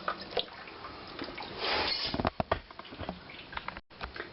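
Water rushes and splashes in a toilet tank during a fill valve and flush valve repair, swelling into a steady gush before breaking into irregular drips and patters, close up with no talking.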